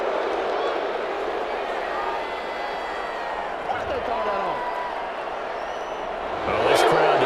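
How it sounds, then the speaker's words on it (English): Stadium crowd at an NFL game between the Cleveland Browns and Minnesota Vikings, a dense sustained roar of many voices that swells louder near the end in reaction to a penalty call, with a commentator talking over it. "this crowd does not like that call"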